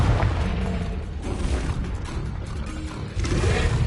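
Confringo blasting spell from the game Hogwarts Legacy, heard as a loud, continuous rumbling blast with mechanical rattling and pops, sitting close and full in the mix without talk.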